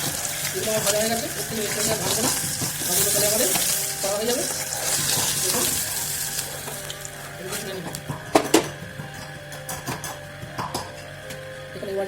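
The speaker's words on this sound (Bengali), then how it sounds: "এই গরিব মাছগুলো আমরা ভেজে নিয়েছি" Shankar fish (stingray) pieces fry and get stirred in a pan, a soft sizzle with scraping stir sounds and a few sharper knocks near the end, while a person talks over the first half.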